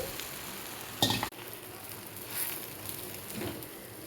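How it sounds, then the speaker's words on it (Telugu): Omelette egg batter meets hot oil on a griddle pan, letting out a steady close sizzle with a brief louder burst as it lands, alone without talk. "ఇప్పుడు ఆమ్లెట్ ఇలాగ వేసుకోవాలి"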